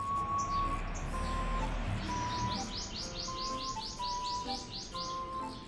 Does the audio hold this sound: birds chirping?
yes